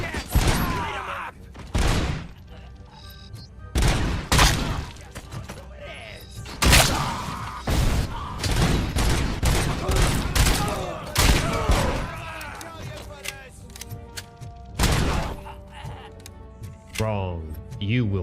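Gunfire bursts from a shootout in Robocop Rogue City: repeated loud broadband volleys and single shots across the whole stretch, mixed with shouting voices and game effects.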